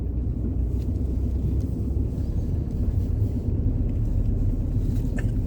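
A car drives up a street, heard from inside as a continuous low rumble of engine and road noise, steady and close with no talking.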